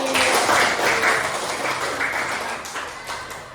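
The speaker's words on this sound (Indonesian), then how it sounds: "Tepuk tangan lagi." A classroom of students claps in a brief burst of applause, close and fairly loud, fading toward the end.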